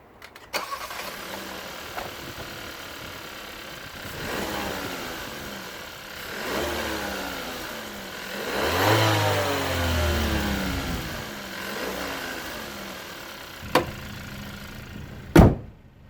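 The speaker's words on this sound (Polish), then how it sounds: "Wydech natomiast minimalnie sobie warczy, co akurat lubię." A Kia Sportage 1.6 T-GDI turbo petrol engine starts and idles with a low exhaust rumble, revving up and settling back a few times, with sharp clunks near the end.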